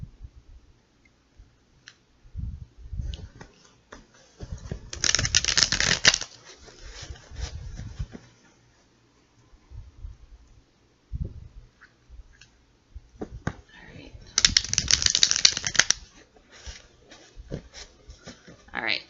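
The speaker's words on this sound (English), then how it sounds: "So let's shuffle the cards with Sagittarius energy for June 2019 in mind." Tarot cards being shuffled by hand in two longer riffling bursts separated by quieter handling, taps and soft clicks.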